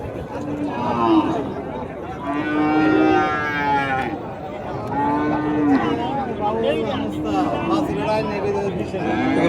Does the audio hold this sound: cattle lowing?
yes